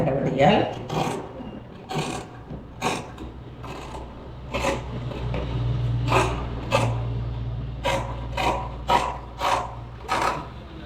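Scissors cut through blouse fabric in repeated crisp snips and slicing bursts close to the microphone, with a faint voice and low background hum in between.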